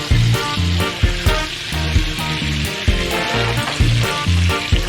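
Turkey necks cook in a pot with a little water, giving a loud, steady sizzle and bubbling with rhythmic low thumps of stirring or music beneath.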